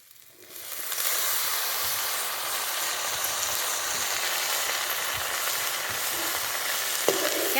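Onion and soaked kurdai sizzle steadily in a hot pan, a loud, continuous frying hiss that builds within the first second and holds evenly, with a small knock near the end.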